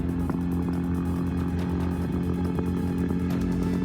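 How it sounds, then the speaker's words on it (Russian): A Soviet Ural motorcycle, rebuilt for a land speed run at Bonneville, drones steadily with a continuous engine roar and rough clatter, loud and close throughout. "Русские едут на собранном мотоцикле «Урал»."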